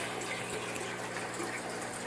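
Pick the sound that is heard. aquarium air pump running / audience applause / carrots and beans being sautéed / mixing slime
aquarium air pump running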